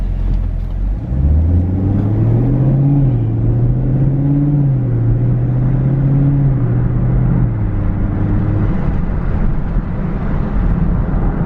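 A 2016 Camaro 2SS V8 engine cruising in a high gear at low speed, a steady deep drone that rises and settles slightly, loud and close throughout with no talk.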